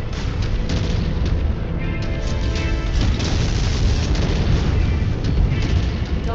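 A destroyed target explodes in MechWarrior 5: Mercenaries during a city battle, a loud, deep rolling boom with crackling debris and repeated blasts sustained across the whole stretch.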